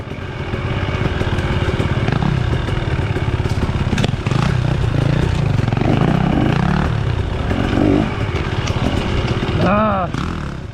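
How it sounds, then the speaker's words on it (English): Dirt bikes ride around a freshly laid track, a loud close motorcycle engine buzzing and revving continuously with throttle swells, clattering underneath and a sharp rising rev near the end. "It took us about 45 minutes to kind of lay a track in and then run it with the bikes"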